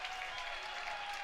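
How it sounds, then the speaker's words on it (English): Redbirds fans at an Illinois State college baseball game clap steadily in a dense, even patter from a crowd. It runs without a break across the whole moment and is heard from some distance. "Redbirds faithful, clapping it up every pitch now, trying to spark some life into the home squad."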